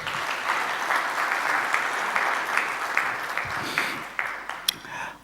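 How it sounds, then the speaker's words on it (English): A seated audience at an Expo 2020 Dubai investors' meeting breaks into sustained, dense applause, many hands clapping close together that gradually thin toward the end. "Please give a round of applause."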